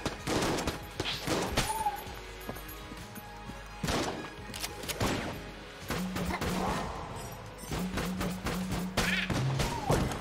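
Rapid gunfire bursts from the video game Enter the Gungeon, volleys of shots and thuds crowding the whole stretch alongside electronic game tones.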